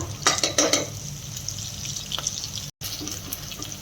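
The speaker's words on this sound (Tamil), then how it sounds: "ஸோ வெங்காயம் வதங்கிட்டு இருக்கு" Onions sauté in a pan with salt and fennel seeds for wheat rava kichadi. A few quick stirring scrapes come first, then a soft, steady sizzle continues close by with no talking.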